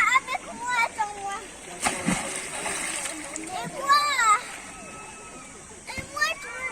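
Children jumping into water on a holiday in Alcúdia, Majorca, with bursts of splashing and sloshing under excited kids' voices calling and chattering nearby.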